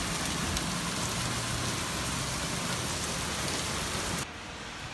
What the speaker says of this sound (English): you can see terrible rain here